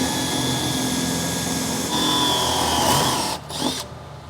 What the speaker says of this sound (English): I drilled the hole and I mounted the potentiometer.